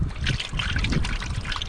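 Sugar syrup poured into a hive top feeder, a close, continuous liquid trickle and glug lasting under two seconds with no voices.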